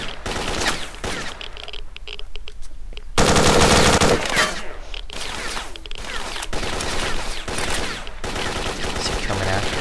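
Sustained bursts of automatic gunfire in the game S.T.A.L.K.E.R. Shadow of Chernobyl, loud and dense, with a heavy fusillade peaking mid-clip over a continuous background of weapon noise.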